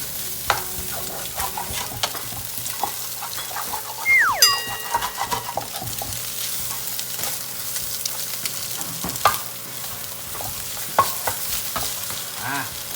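Pork and shrimp stir-fried for seafood fried rice, a soft steady sizzle with scattered scrapes and clinks of the spatula, plus a brief tonal chime in the middle.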